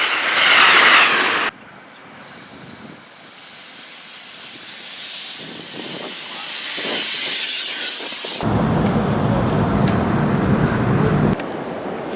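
An R7 commuter train pulls in, loud hissing and rumbling with shifting bursts of noise, brakes and carriage sounds rising and falling over about twelve seconds, heard up close on the platform with no talk.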